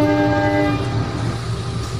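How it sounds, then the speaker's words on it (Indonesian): Locomotive reversing during shunting of dining and passenger cars, a loud continuous diesel rumble with a sustained horn tone fading into steady engine noise, close by. "Sekarang lokomotif ini kita akan mundur."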